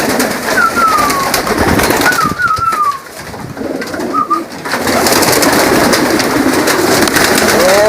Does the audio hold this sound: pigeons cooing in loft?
yes